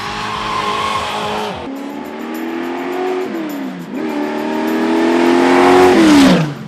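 A loud muscle car engine roars and revs hard through rising gear pulls, the pitch climbing, dropping at shifts, then climbing again as it speeds past.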